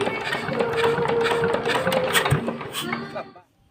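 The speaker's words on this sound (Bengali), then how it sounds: "চলুন ইঞ্জিনটা স্টার্ট দিই" A small engine runs with a steady, buzzing mechanical drone over a few seconds and then cuts out abruptly, while a voice speaks over it.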